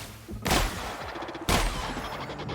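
Two loud shotgun blasts from The Outer Worlds video game, each a sharp booming crack with a short decaying tail, spaced about a second apart over faint game background sound.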